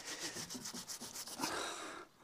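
A brush scrubbing parts of an Iveco 35-8 van with water, giving rhythmic, close back-and-forth rubbing strokes that stop abruptly near the end.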